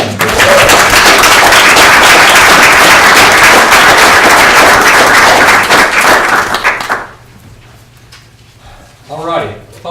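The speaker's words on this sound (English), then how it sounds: "let's just go ahead and do a round of applause for everybody that was instrumental in getting the school system open" Dense, loud applause fills a school board meeting for about seven seconds, then drops away abruptly, leaving room tone and a brief voice.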